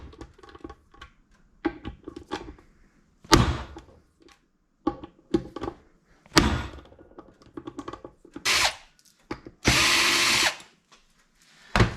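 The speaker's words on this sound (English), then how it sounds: "Yep, impact wrench, impact screwdriver." An impact wrench and an impact screwdriver work on a Banshee motor during a rebuild. Short, loud rattling bursts of hammering alternate with quiet clicks and handling noises, and the longest burst runs for under a second.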